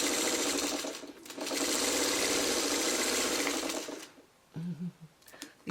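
A sewing machine stitching checkerboard quilt blocks runs in a steady, rapid whir for about four seconds, dips briefly once, then stops with a few short clicks and bursts of fabric handling.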